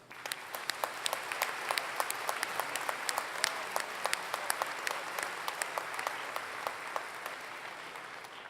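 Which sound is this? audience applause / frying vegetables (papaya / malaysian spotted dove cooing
audience applause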